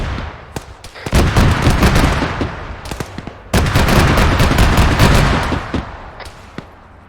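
Autocannon fire in the video game Squad, loud repeated bursts of heavy rapid shots with sharp cracks and booming echoes, coming in two sustained volleys with brief pauses between.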